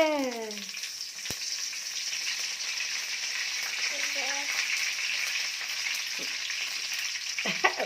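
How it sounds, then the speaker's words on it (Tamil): Fenugreek seeds and curry leaves splutter in hot oil for a brinjal kuzhambu, a steady bright sizzle with a few sharp pops and brief clinks of a utensil throughout. "வெந்தயம் போடுங்க வெந்தயம் சவக்கட்டும்னு கறிவேப்பிலை போடுங்க"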